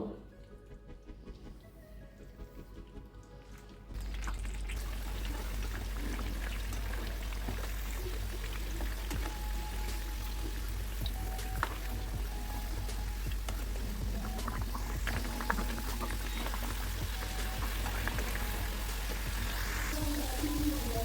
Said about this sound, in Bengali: তেল গরম হয়ে গেছে এখন বয়েল করা আলুগুলো আমি এখানে দিয়ে দেবো এবং এপিট ওপিট করে আমি ফ্রাই করে নেবো